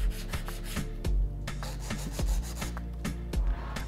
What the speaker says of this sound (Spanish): Ahora con una lima Zebra 150 vamos a iniciar el proceso de limado